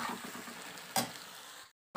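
Spinach paste sizzles and frys in a pan with already fried tomato and onion, a soft steady crackle with a brief stir clatter midway before cutting to silence.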